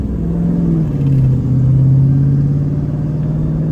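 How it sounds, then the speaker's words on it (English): A 1995 Ford Mustang fitted with an SVE Mongoose shifter and brass bushings, driving along with a steady low engine rumble close by and a slight shift in pitch as it pulls, no talking. "Finally driving the Mustang"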